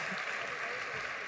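A plenary audience at a global AI summit applauds, a brief, dense and fairly distant wash of clapping held at a steady, moderate level with no clear individual claps.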